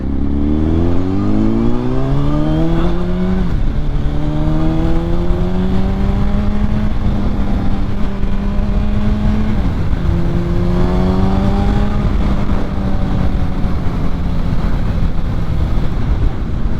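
A 2006 Honda CBR1000RR sport motorcycle's engine under way, loud and continuous, climbing in pitch through the gears with several brief dips at the shifts, over heavy wind rush.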